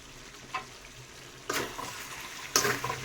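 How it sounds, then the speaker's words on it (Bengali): Chicken and vegetables that have been sautéed until the oil separates crackle faintly in a pot. Three louder bursts of sizzle and stirring break through a quiet background. "বাহ, সবজি মাংস ভালোই কষানো হয়ে গেছে, তেল ছেড়ে দিয়েছে।"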